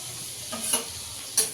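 Chopped garlic frying in butter gives a soft continuous hiss, broken by two brief scraping stirs of a spoon against the pan, close and without any talking.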